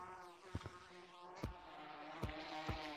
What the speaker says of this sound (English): Oh crap, the bees are still after me.